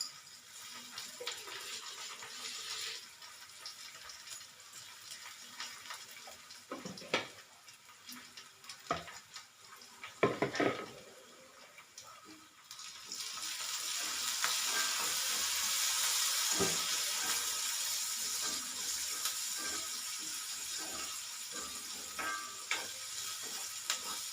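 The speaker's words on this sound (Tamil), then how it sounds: "வெங்காயம் ஓரளவுக்கு வதங்கிட்டு வந்துடுச்சு." Chopped onions sauté in a pan for a Tamil-style cauliflower gravy, giving a steady sizzle with stirring scrapes and clinks in the first half, then a louder, denser frying hiss that continues to the end, with no talking.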